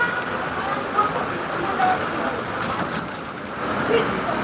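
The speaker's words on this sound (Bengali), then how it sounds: "রাজধানী ঢাকায় প্রচুর বৃষ্টি পড়ছে দেখতে পাচ্ছেন অনেক বৃষ্টি" Heavy rain pours on the streets of Dhaka, making a dense, steady wash of hissing noise with slight surges, while a voice is faintly audible underneath.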